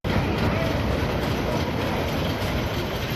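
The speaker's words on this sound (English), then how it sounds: "2 trains moving at once on a GCI" Two trains on the GCI wooden roller coaster Gold Striker at California's Great America roar along the track with a steady, loud, continuous rumble and clatter that fills the whole stretch.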